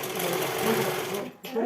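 A sewing machine stitching a blouse runs in a fast, steady whirring rattle at close range with talk over it, then stops briefly and starts again.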